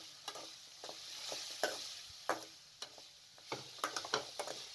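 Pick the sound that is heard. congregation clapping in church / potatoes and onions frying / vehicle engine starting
potatoes and onions frying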